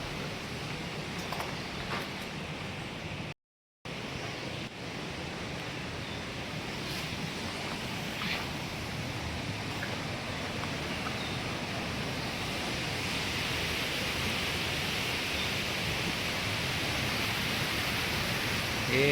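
A forest waterfall roars in an even, unbroken wash of noise, steady and fairly loud, rising slightly toward the end.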